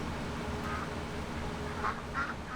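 Ducks quack in Farming Simulator 2017 on the Lone Star map, a few faint, scattered calls over a steady low rumble of game ambience, with no talking.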